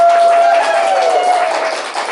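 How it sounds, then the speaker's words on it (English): A live audience at a church service claps and cheers on cue, a loud, continuous burst of applause with a voice or sustained tone riding over it, fading slightly toward the end. "No, that was not canned applause, that was live."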